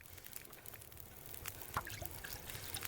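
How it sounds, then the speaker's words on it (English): Boiled water poured from a pot in The Long Dark survival game, a faint steady trickle with small splashes and a soft clink, quiet and alone. "You can tell how rarely I actually have to go back and add boiled water."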